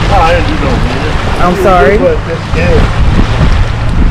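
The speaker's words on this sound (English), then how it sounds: "It's a little windy out here." Strong wind buffeting the microphone outdoors at Sequim Bay beside choppy water, with a low rumble, while people talk briefly over it.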